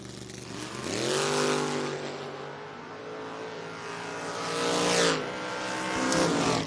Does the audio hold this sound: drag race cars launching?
yes